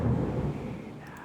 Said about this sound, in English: That's thunder that you hear.